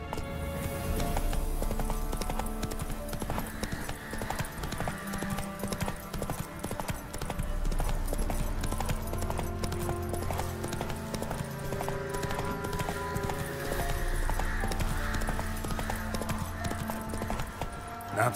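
Horse hooves clip-clop steadily over a game's music in The Witcher 3: Wild Hunt, with a faint voice talking now and then.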